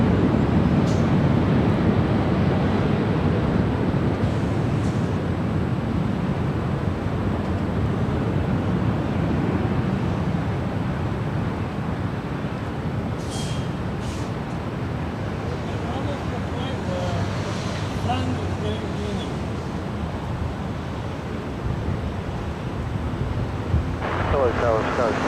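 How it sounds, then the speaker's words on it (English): An Iberia Airbus A330 jet rolls down runway 24 left for takeoff at LAX as a broad, steady rumble heard from a distance, with wind noise on the microphone and people talking over it. "this is Iberia, Flight 6170, heading back to Madrid. This A330"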